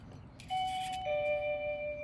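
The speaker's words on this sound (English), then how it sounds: "That was the doorbell." A doorbell chimes in a quiet room with a wine bottle being opened, its two-tone ding-dong ringing out clearly and sustaining, with no talking.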